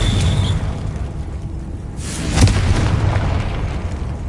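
A Confringo blasting spell explodes in a Hogwarts wizarding video game, a single deep muffled boom with a brief crackling burst over a low rumbling game background, no talk.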